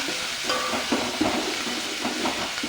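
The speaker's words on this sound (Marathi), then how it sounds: "आता याला व्यवस्थित व्यवस्थित मिक्स करून घ्यायचं कांदा व्यवस्थित तेलामध्ये भाजून घ्यायचा" Onion frying in oil in a pan while being stirred and mixed for a village-style katachi aamti, a steady sizzle with soft scraping stir sounds throughout.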